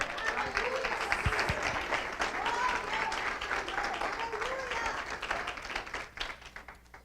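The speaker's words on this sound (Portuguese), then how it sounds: "Pode aplaudir o Senhor." A church congregation claps and applauds steadily throughout, a dense crowd sound with a voice speaking over it at times.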